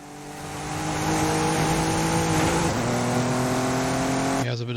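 A BMW race car in a racing video game accelerates hard, its engine note climbing steadily, dropping briefly at a gear change, then rising again. The roar is loud and close, with a sharp shift near the end.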